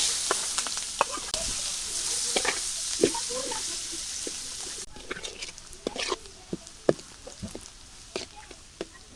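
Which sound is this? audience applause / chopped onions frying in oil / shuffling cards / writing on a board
chopped onions frying in oil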